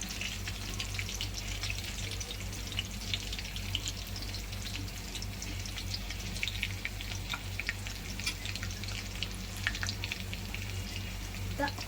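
Mustard seeds and cumin crackle and sizzle in hot oil with reddening garlic, a steady close frying hiss peppered with small pops throughout.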